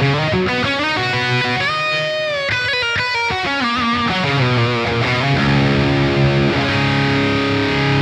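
Heavily distorted electric guitar through an amp-sim gain preset plays chords and single-note lines with thick, saturated gain, loud and continuous with no talking.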